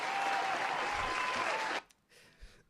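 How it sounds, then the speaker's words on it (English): Steady crowd applause at a live music show for a performer being welcomed, a dense, even wash of clapping that stops abruptly, leaving near silence. "Got some applause for him and everything."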